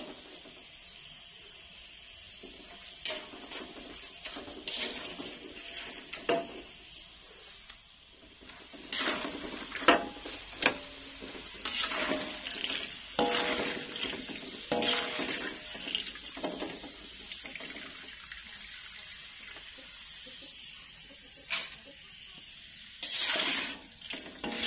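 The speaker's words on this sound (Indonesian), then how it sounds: "Goreng kacang sambel guys." Peanuts fry for sambal in an Indonesian home kitchen, giving a long stretch of crackling, spitting and scraping that rises and falls, with no clear talk over it.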